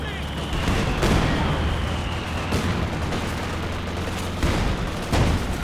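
MG34 machine gun fire in a Company of Heroes 2 match, sharp repeated shots over a dense battlefield din of rumbling explosions and gunfire, with a few louder cracks standing out.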